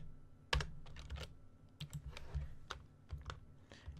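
Quiet, close keystrokes on a computer keyboard: a handful of separate taps and short bursts of clicking at an uneven pace, with no talking.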